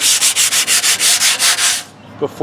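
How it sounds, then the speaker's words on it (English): Light hand sanding on a John Deere mower deck gives rhythmic, close back-and-forth strokes, about a dozen loud even passes that stop near the end and leave a few small knocks. "So I'm just going to sand it lightly."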